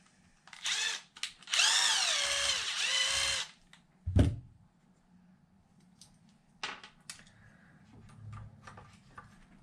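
A power drill whirs in two bursts at the start while repairing an RC truck's spare tire mount, followed by a sharp knock and scattered light tapping and handling noises.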